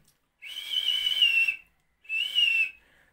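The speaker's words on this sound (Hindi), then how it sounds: "मेरी बात ये है कि उसकी फ्रीक्वेंसी हाई है सीटी की, विशल की" A high-pitched whistle blown in two sustained blasts, the first about a second long and the second shorter, loud and piercing with no talk over it.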